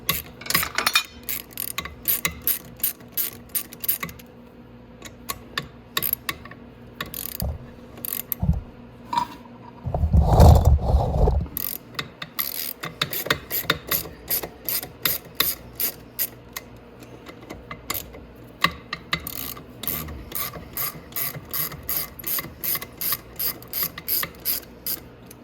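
A ratchet wrench clicks in rapid bursts as bolts come off the sprocket of a Venom Grizzly, with sharp metallic ratcheting repeating in short runs, a brief louder clunk midway, and close, dry mechanical handling throughout.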